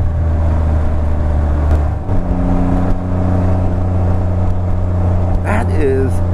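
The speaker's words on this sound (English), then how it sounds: "Yeah, that exhaust sounds really nice." A 2014 Can-Am Spyder RT-S three-wheeled motorcycle exhaust drones steadily and close, with a low constant engine hum throughout and a brief higher whine near the end.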